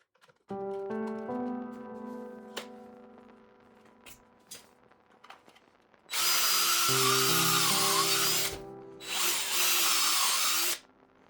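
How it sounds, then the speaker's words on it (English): A power drill boring pocket holes into wooden end stretchers for a mini lathe bench: a soft start with a steady tonal whine, then two long, loud, close bursts of high-pitched drilling separated by a short pause. "I drilled some pocket holes into the end stretchers"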